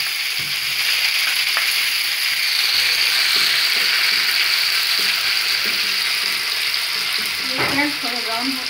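Ground spice masala frying in hot oil with browned red chili and cumin for a yam curry, a steady close sizzle with faint stirring clicks and a brief spattering flare near the end.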